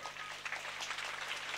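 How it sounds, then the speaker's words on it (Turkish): Spectators at a wrestling final in Kavaklıdere give faint, distant applause, a soft continuous patter of many hands with no voices over it. "Canı gönülden bir alkış yapalım."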